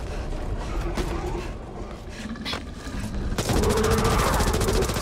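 Gunfire crackles in Back 4 Blood, with rapid shots and bursts growing louder and denser toward the end, busy game noise underneath.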